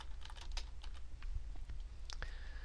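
Quick bursts of keystrokes on a computer keyboard as text is typed into a shape in Microsoft Word, soft close clicks in irregular clusters over a quiet room hum.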